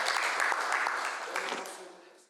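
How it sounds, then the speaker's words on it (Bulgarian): A room audience claps to welcome a guest lecturer from Ireland. The clapping is moderate and a little distant, fading out after about two seconds, with voices faintly under it. "Can you hear the applause, Gareth?"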